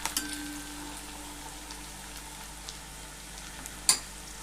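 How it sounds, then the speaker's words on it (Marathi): Tomatoes sauté in a pan with a soft, steady sizzle and crackle for chole masala, near and moderate in level, with a sharp metallic tap near the end. "टोमॅटो छान परतून घ्यायचा आहे आपल्याला."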